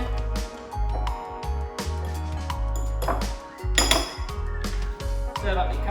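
Metal utensils clink and scrape against dishes while eggplant curry and rice are served, a run of bright, irregular knocks and chimes of varying loudness, close to the ear.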